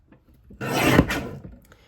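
Paper trimmer blade slicing through a sheet of cardstock, one short rasping slide lasting about a second, close and fairly loud against a quiet background.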